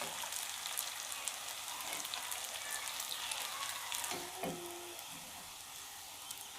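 Onion rings frying in oil over a medium flame give off a continuous, even sizzle at close range, with light clinks of turning partway through and no talk.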